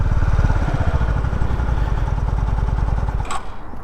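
A Honda CB125R motorcycle engine with a light rise in revs as the rider eases off the clutch to pull away, a steady close buzzing thrum that drops off near the end.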